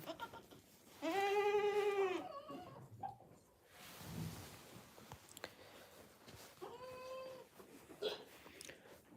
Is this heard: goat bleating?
yes